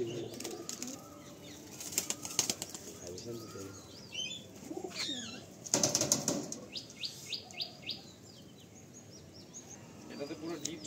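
Andhra pigeons in a loft beat their wings in quick flapping bursts among chirps and soft coos, while someone talks nearby.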